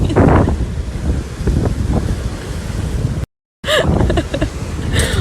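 Windy sea shore with steady surf and heavy gusts buffeting the microphone, loud and continuous, broken by a brief dropout before the wind and waves resume.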